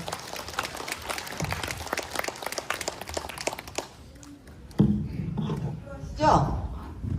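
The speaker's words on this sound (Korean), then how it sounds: "큰 박수로 맞아주시기 바랍니다" Audience applause welcomes firefighter instructors at a senior citizens' association safety training session: steady, dense clapping for several seconds that then thins out, followed by a voice speaking over a quieter room.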